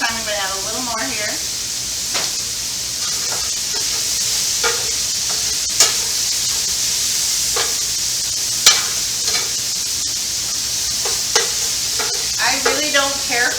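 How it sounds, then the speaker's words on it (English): Vegetables stir-fry in hot oil in a pan: a steady, close sizzling hiss runs throughout, broken by scattered scrapes and clacks of stirring, with a voice speaking briefly at the start and end. "Don't care for stir fries with overcooked veggies in them, so you don't need the veggies to stir fry real long."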